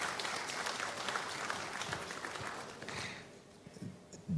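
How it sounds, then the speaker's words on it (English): Applause from a crowd at the launch of Ghana's National AI Strategy, steady and dense at first, then thinning out and fading toward the end. "Let's acknowledge him with a round of applause."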